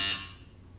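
A game show buzzer sounds once on a classic Indian TV quiz show, a loud, bright electronic buzz that quickly fades into the room.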